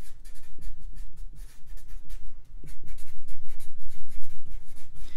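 A marker or pen writes on a board while a physics circuits problem is worked out, giving a continuous close scratching and squeaking with rhythmic strokes, steady and prominent with no talking.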